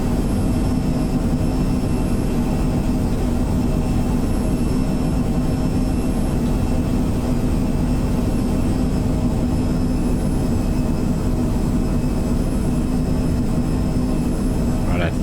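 Twin-jet Phenom 100 turbofans spooled to power in Microsoft Flight Simulator 2024, a steady continuous drone with a faint high whine on top, holding level throughout.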